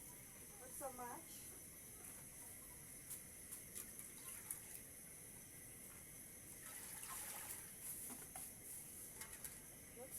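Water poured from a small vessel into a sufuria pot over a fire in a village kitchen, a quiet trickling splash in brief bursts against a hissy outdoor background.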